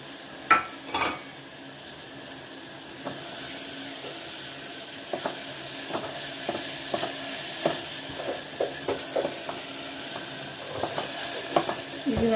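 Ginger garlic paste frying in a pan for mushroom pulao makes a soft continuous sizzle, broken by sharp clicks and scrapes of a spoon stirring against the pan. No one speaks.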